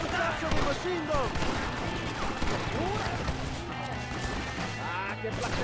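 Rapid machine gun fire in Red Dead Redemption, sounding as a steady stream of loud shots that runs beneath excited talking throughout.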